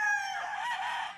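A rooster crows once close by, a single loud drawn-out call that rises and trails off.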